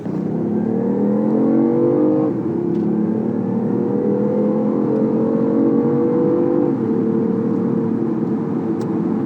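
A steady, loud synthetic car engine drone played through a BMW i8's speakers, with harmonic layers, rising and settling in pitch as if revving, running continuously without talk.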